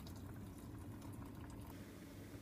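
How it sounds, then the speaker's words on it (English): Boiled water poured into a glass baking pan while making Greek-style baked giant beans, a soft, steady, bubbling pour heard faintly for a couple of seconds with no talking. "So we will already put the boiled water, like lots of it, in the glass pan."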